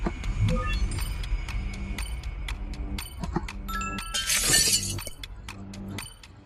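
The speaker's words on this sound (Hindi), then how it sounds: "शायद शीशा टूटने की आवाज आई।" Glass shatters loudly with a bright burst of breaking shards, set against a busy background of clinks, clatter and low ambient noise.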